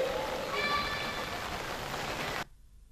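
Dense, steady hiss of heavy rain on surfaces, fairly close, cutting off abruptly near the end.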